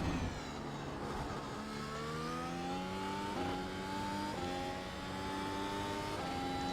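F1 race car engine in the iRacing video game at the Austrian Grand Prix, a high continuous whine climbing in pitch through several gear changes, each shift dropping the tone before it rises again, loud and steady.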